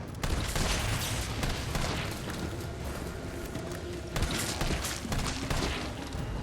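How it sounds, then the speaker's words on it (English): Handgun shots in the Resident Evil 3 remake on Inferno difficulty crack out repeatedly within dense, noisy game action, with a couple of sharper reports standing out from the busy background. "just burn through my handgun ammo"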